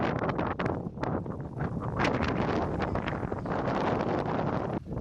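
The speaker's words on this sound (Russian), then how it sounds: "В результате могут возникнуть сильные порывы ветра." Strong, gusty wind roars across an outdoor microphone, a steady broadband rush with rising and falling surges and no talk.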